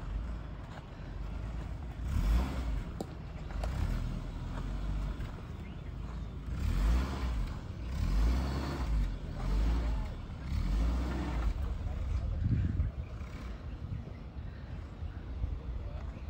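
A Suzuki Jimny crawls along an off-road track in four-low, its low engine rumble swelling and easing in uneven surges with occasional knocks from the terrain, while people talk over it.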